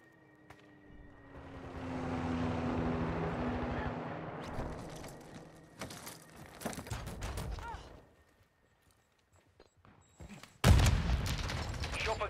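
In Call of Duty Modern Warfare II, an aircraft sweeps in to deliver a care package airdrop, with a rising and fading engine roar followed by sharp mechanical clatters and a sudden loud burst near the end.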